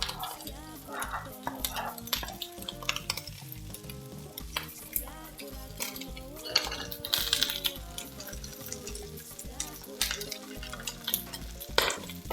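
Food stirred in a cooking pot as it fries, with a constant sizzle under repeated scraping and clinking of a utensil against the pot, close and busy throughout.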